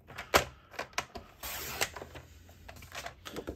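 Cardstock cut and scored for a card base gives a series of close, crisp clicks and taps, then a longer slicing swish partway through, followed by more scattered light clicks.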